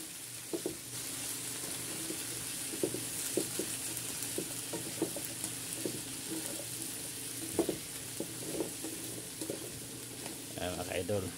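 Squash, long beans, okra, eggplant and dried fish are stirred in a pan as they sauté, the spoon scraping and clinking in irregular strokes over a steady sizzle.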